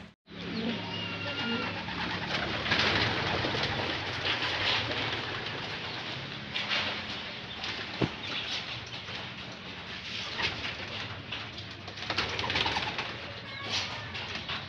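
Pigeons coo continuously in a flock nearby, a dense, steady murmur of soft calls with occasional brief rustles or flutters, no speech over them.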